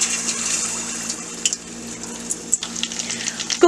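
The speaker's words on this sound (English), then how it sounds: "Let's start frying the lollipops in the oil." Chicken lollipops fry in hot oil, a close steady sizzle and crackle with occasional bubbling pops and a few stirring clinks near the end.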